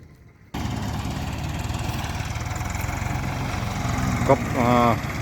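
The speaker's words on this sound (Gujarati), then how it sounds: "કપાસ કાપવામાં ટ્રેક્ટરને બહુ તકલીફ નથી પડતી" A tractor cuts a cotton field, its engine a steady, fairly loud drone that begins abruptly and carries on throughout, with a brief voice-like sound near the end.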